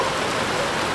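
Heavy rain pouring steadily in Sarangani, a dense unbroken hiss of falling water, loud and close with no voices.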